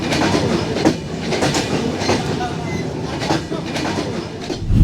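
The Nilsagar Express rumbles steadily on the rails near Natore, heard from inside a carriage as a loud continuous roar with faint rhythmic clacks, with people talking under the noise.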